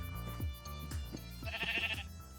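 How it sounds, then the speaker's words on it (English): Sheep bleat in Minecraft, with a couple of short nasal calls set over a continuous low background track of game music. "Ah, there we go, 2 white sheep."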